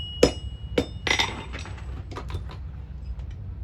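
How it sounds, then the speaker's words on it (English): A blacksmith strikes metal on an anvil while forging, several sharp ringing hammer blows followed by lighter clinks and scraping in a workshop, with no talk. "intentionally letting my hammer hang over the edge of the anvil to make two shoulders to drive it down past the anvil"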